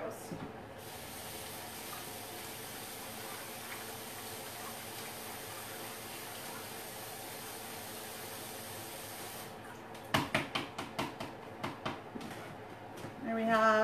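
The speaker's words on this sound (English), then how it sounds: "So I'm just going to run some water over those." Tap water runs steadily over fresh leeks in a kitchen sink for about ten seconds, a continuous hissing splash, then stops and is followed by brief handling clatter and dripping.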